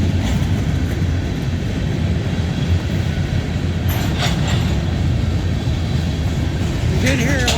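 A CSX manifest freight train slowing down in Folkston, Georgia, rumbles steadily and loudly nearby with rolling wheel noise, faint metallic squeals and a few brief higher screeches toward the end.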